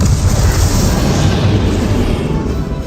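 A Confringo blasting curse from the Hogwarts Legacy video game erupts in a loud, sustained, rumbling explosion that fills the whole moment, with no speech over it.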